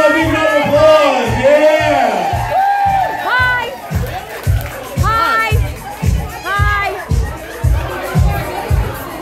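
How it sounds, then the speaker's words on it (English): Party crowd at a birthday dance for Steve, James and Donna, with cheering, whoops and lively chatter over rhythmic thumping dance music, voices talking and shouting throughout. "Come on, big round of applause."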